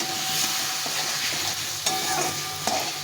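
Potatoes fry in spiced masala oil with a splash of water for egg biryani, a dense, even sizzle and hiss with a few sharp spatula scrapes and knocks against the pot, close up and with no talking.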